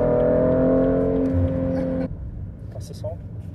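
A new BMW M2 engine revs loudly from inside the cabin on Warsaw streets, then cuts abruptly to a quieter rumble partway through, with brief voices in the car.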